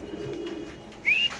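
A dragon pigeon at a pigeon farm coos softly and close, a brief low call followed by a sharper high squeak near the end.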